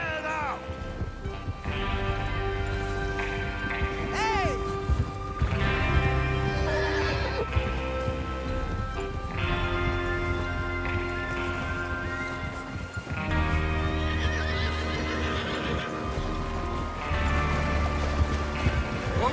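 Horses in the video game Red Dead Redemption 2 clip-clop and whinny over a steady outdoor ambience, with several neighs and hoofbeats rolling along beneath occasional voices.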